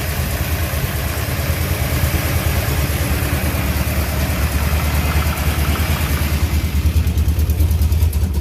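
A 1967 Chevy engine idles with exhaust leaks, a loud steady close-up rumble with a rapid ticking, puffing pulse that runs evenly from start to finish.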